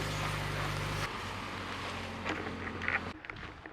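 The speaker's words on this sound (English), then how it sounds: "It's a little bit windy." Steady broadband wind rushes across the microphone, loud at first and then easing, with a few faint scrapes and rustles near the end.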